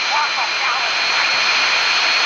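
Airplane jet engine in the video game GTA San Andreas, a loud, steady roaring whine held without a break.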